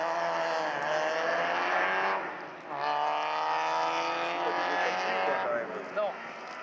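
A Caterham Seven engine howls at full throttle on the Stelvio Pass, a loud, close, rising and falling rev with gear-change dips and brief pauses, running continuously for several seconds.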